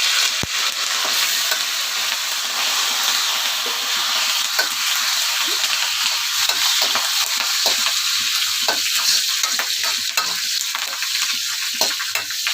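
Curry leaves sizzle loudly in hot tempering oil for tomato dal, a continuous bright frying hiss with scattered crackles and spits, close and unbroken.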